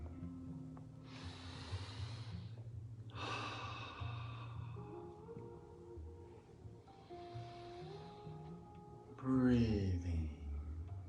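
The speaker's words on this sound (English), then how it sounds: "we're just going to breathe" Slow, deep breaths drawn in and let out during a guided meditation, set over sustained, tonal music.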